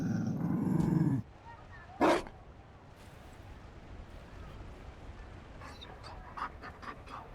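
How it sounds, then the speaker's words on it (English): A Mabari war dog in Dragon Age Inquisition pants heavily and rhythmically up close, then breaks off; a sharp short growl or huff follows, and later a few faint quick sniffs and snorts over quiet ambience. "You found a dog. They don't breed Mabari in Olay."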